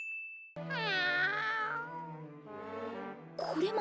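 A cat in a KonoSuba anime scene lets out a long, wavering meow and then a lower, softer second call, with a sharp metallic ding just before and a clatter at the end.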